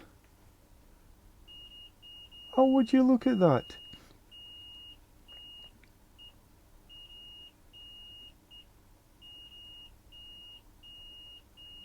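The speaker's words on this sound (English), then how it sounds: "get you into beep mode and see if we can make a beep beep" A multimeter in continuity mode, testing a dead iPhone 7 board, gives a steady electronic beep tone in short pulses after a brief spoken exclamation, with quiet background hum throughout.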